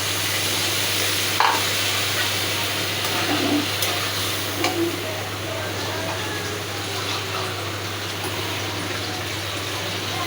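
Beef kidney cooking in a pan after a cup of water is added, a continuous bubbling simmer and hiss with occasional stirring knocks, close and steady, no talking.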